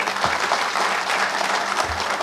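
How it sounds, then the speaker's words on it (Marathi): An audience at a Rotary Club lecture-series event clapping loudly together, a dense, sustained round of applause filling the hall. "रोटरी क्लब जुळे सोलापूरच्या सर्व सदस्यांसाठी एकदा जोरात टाळ्या वाजवून स्वागत करा."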